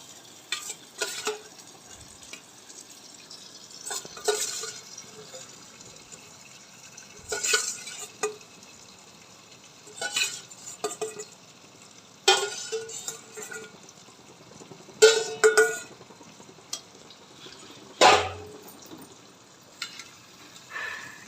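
Cleaned prawns cooking in a pan of prawn curry, with soft frying sizzle under repeated stirring scrapes that come in short bursts every couple of seconds, fairly quiet and close, with no talking.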